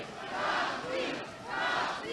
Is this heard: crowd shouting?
yes